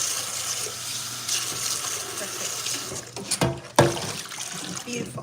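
Hot water runs from a kitchen tap while a stir fry is being prepared, a steady broadband rush that breaks into a few splashes and interruptions near the end.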